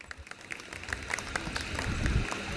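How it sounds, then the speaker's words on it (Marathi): Applause for the dancers at a naming ceremony, a crowd clapping steadily at moderate distance and swelling slightly louder toward the end. "जोरदार टाळ्या वाजवा त्यांच्यासाठी प्लीज एकदा"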